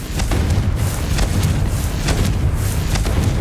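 The Confringo fire spell from a Harry Potter video game explodes in a loud, dense run of booming blasts, repeated thumps pulsing about twice a second over a continuous roar, with no talking.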